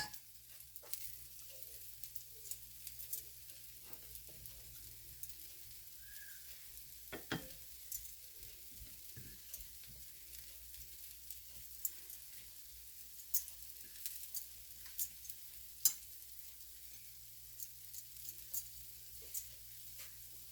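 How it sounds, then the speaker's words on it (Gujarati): A bajri (pearl millet) flour dosa fries in oil on a pan, giving a faint, steady sizzle with scattered small pops and crackles throughout. "તેની પર આપણે થોડું તેલ નાખીશું, ઢોસો થાય ત્યાર સુધી"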